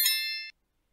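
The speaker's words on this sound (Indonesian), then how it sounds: "aktifkan lonceng notifikasi" A single bright notification bell ding rings out clearly, sustaining briefly with a shimmering metallic tone before stopping cleanly into silence.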